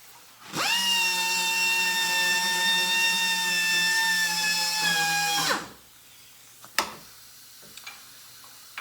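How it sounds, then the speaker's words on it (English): A drill press sanding a wooden bowl whines up to a steady high-pitched hum for about five seconds, then spins down, followed by a few light clicks and taps. "what I'm going to do is bring this over to the drill press"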